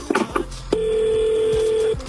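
A phone dials a number to call someone back: a few quick keypad beeps, then a long steady tone that holds for over a second before cutting off, with faint room noise behind it.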